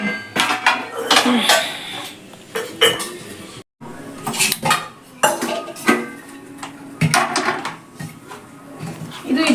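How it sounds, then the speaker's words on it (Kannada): Metal cooking vessels clank and clatter in bursts, pots and utensils being handled and set down in a kitchen while preparing to roast chillies for sambar powder. "ಇನ್ನೊಂದು ಕಡೆ ಮೆಣಸಿಕಾಯಿ ಹುರಿಯೋಕ್ಕೆ ಪಾತ್ರೆ ಇಡ್ತಾರೆ"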